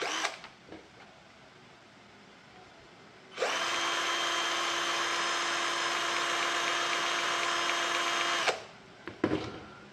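An NRT Pro DC320 cordless drill driver in drilling mode spins up at speed setting 2, giving a steady, loud high-pitched whine that holds for about five seconds before cutting off, with quieter handling clicks before and after.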